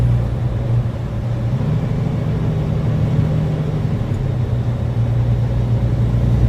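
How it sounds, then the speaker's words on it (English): A car drives through downtown Dallas, its steady low engine rumble and road noise running continuously and fairly loud from start to finish, with no talking. "We got to shoot a little video of Ross driving through downtown Dallas."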